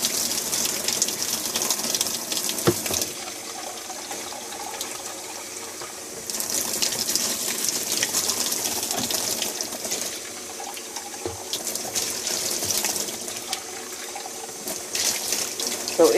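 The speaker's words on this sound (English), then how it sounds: "So I'm going to just pour some extra water in it to show you." Water pours and gushes steadily into a washing machine drum holding laundry detergent pods, a broad continuous splashing that swells and eases in bursts, heard close with no talking.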